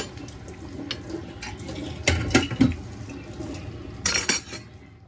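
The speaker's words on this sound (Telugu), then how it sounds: "ఇలా వెన్న వేసుకుని కలుపుకుంటే సరిపోతుంది." A spoon stirs butter into hot cooked dal in a metal pot, with soft scraping and a few sharp metallic clinks against the rim, fairly close and quiet.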